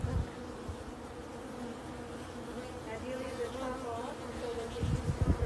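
A dense, steady hum of many disturbed bees buzzing close by at a hive entrance during a colony transfer, with a low rumble and a few soft thumps underneath.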